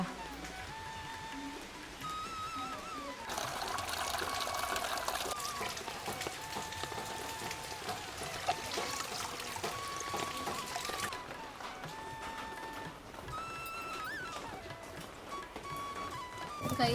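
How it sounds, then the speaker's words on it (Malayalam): Steady heavy rain pouring down, a dense continuous wash of noise, with faint tonal sounds and occasional voices in the background. "എന്താ മഴ"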